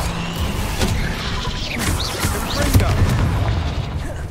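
A Confringo explosive spell blast in Hogwarts Legacy, heard as a loud crashing boom amid continuous combat noise, with brief whooshing effects and a voice shouting over the fray.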